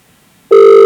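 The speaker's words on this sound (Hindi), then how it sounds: "रिंग लगातार जा रही है और देखना ये फोन उठता है कि नहीं" A telephone ringback tone starts suddenly after half a second of near silence, sounding as a steady, loud, unbroken electronic tone while a call to an official goes unanswered.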